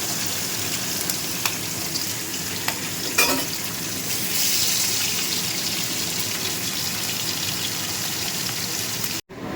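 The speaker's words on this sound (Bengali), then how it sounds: "এক রাউন্ড মাছ ভাজা হয়ে গেছে, এবার আর এক রাউন্ড ভাজবো" Loud, steady sizzling of fish frying in hot oil, with occasional spatula scrapes and clicks over the continuous crackle.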